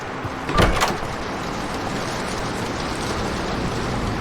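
A door opening in the horror video game The Doors: a brief scraping creak near the start, then a steady low rumbling ambience carries on alone.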